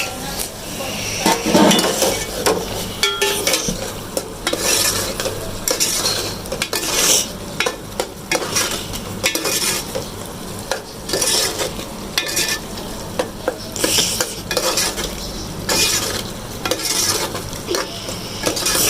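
Beef keema masala with green chilli and ground chilli fries in a pan while a spoon stirs, scrapes and clinks against the metal in a repeated rhythm over a constant close sizzle, with no talking.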